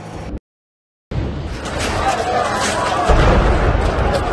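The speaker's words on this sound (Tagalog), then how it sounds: "Palitan ng pagsabog," Booming blasts and rumbling detonations from the Israel-Hamas war roll on continuously after a brief silence, loud and dense like distant explosions in combat.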